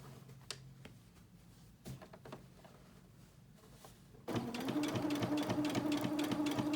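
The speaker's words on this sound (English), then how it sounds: "You're going to sew straight across that final binding seam that we created." A sewing machine stitches across a quilt binding seam, starting with a few quiet clicks and then running steadily in a fast, even whir.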